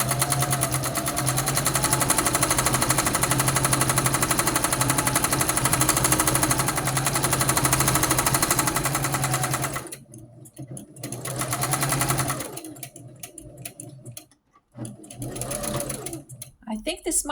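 A sewing machine runs steadily and loud for about ten seconds while quilting a pink rag quilt block, then stitches in short back-stitching bursts with pauses between them, needle down.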